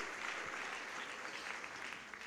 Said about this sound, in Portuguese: Pode dar uma salva de palmas para a glória de Deus.